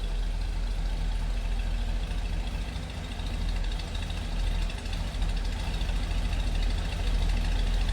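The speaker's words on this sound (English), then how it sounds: "That classic inline 6-cylinder sound." The inline six-cylinder engine of a 1941 Chevrolet pickup idles steadily, a low even rumble with a faint knocking pulse, heard close and alone for the whole stretch.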